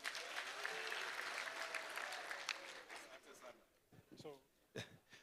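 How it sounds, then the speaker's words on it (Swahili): An audience at a public security forum in Kericho County claps for the governor, a thick burst of applause that swells, holds for a few seconds, then thins out as a voice starts speaking. "Pigia makofi kwa gavana."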